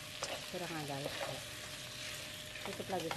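Chicken cooking with cherry tomatoes, cucumber and peppers fries in a pan with a steady, close sizzle and bursts of stirring scrapes, while soft voices murmur underneath.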